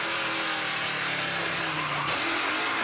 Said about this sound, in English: You could hear Cameron losing control, losing traction.